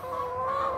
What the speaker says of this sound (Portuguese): Quando a gente vai colocar a ração para as galinhas